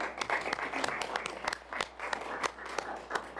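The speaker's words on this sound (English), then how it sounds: "Can you give them an applause?" Applause from an audience at a city council meeting, scattered claps of moderate loudness, somewhat distant and thinning rather than a full roar.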